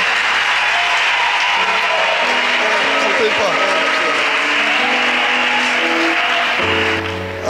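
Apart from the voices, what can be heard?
applause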